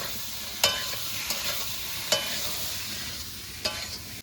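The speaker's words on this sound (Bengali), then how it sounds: "এবার ভালো করে আলুর সঙ্গে এই মশলাটাকে কষিয়ে নেব" Potatoes frying in a pan with spices, salt and turmeric give a steady, bright sizzle up close, broken by four sharp scrapes of a spoon stirring the mixture.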